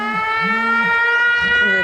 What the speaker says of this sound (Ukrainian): Це у нас у нас тривога. У нас тривога.